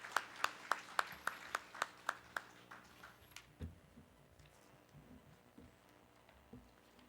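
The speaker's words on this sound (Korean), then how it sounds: "여러분 박수로 모셔주시기 바랍니다" A handful of people at a provincial residents' association founding assembly clap in a brief, sparse, evenly spaced rhythm that soon stops, followed by faint low shuffling and room noise.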